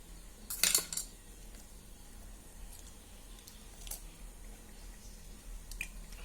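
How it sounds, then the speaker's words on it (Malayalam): A hen's egg cracked into a bowl of rice-flour batter gives one brief crisp crack near the start, followed by faint drips and quiet kitchen noise. "ഇനി നമുക്ക് ഇതിലേക്ക് 1 കോഴിമുട്ട പൊട്ടിച്ചൊഴിച്ചു കൊടുക്കാം."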